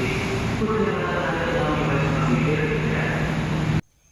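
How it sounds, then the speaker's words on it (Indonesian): Early-morning ambience at Jatinegara railway station: a dense, steady rumble of trains and platform bustle, with a low hum running through it, cutting off abruptly near the end. "Dan ini kurang lebih suasana di stasiun Jatinegara."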